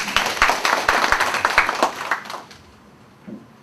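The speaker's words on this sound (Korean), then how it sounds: "힘찬 대회사를 해주신 정혜준 위원님께 다시 한번 큰 박수 부탁드립니다." An audience at a union assembly claps for a speaker, with a burst of clear, rapid handclaps that thins out and fades to quiet after about two and a half seconds.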